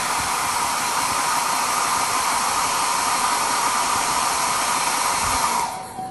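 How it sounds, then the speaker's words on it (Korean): A hair dryer drying paint on a cotton T-shirt blows at full power in a steady, unbroken rush of air, then switches off at the very end. "자연 건조가 안 되고 빨리 마르기를 원하시면 이 드라이기를 이용해서"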